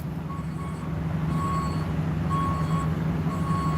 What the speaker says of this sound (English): His reverse lights are on and it's beeping and he's going forward.